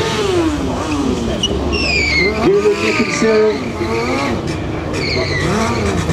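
A stunt motorcycle drifts at a freestyle competition, with its tires squealing and skidding in long rising and falling whines close by and an announcer talking over it.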